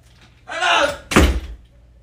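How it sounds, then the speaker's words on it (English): Door being shut and locked indoors: a soft swish as it swings, then a solid close thunk, near and fairly loud, with no talk. "Lock the door."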